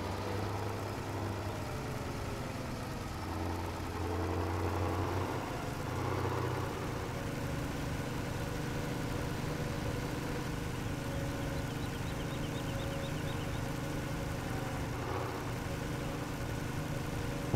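Truck in Farming Simulator 17 pulling away, a moderate engine hum with shifting low tones as it revs and settles into a steady drone, no talk over it.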